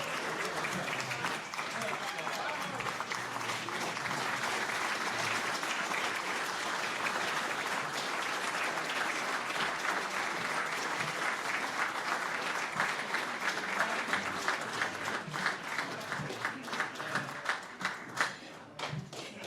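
A dinner audience at a veterans' golf association event gives Coach Tom Harp sustained, dense applause for nearly twenty seconds. Some sharper individual claps cut through near the end before it tapers off.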